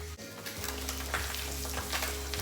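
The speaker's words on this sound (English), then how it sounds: "can you hear the sizzle?" Sea bass sizzling in a hot frying pan, a steady crackling hiss with a low hum underneath, close and continuous.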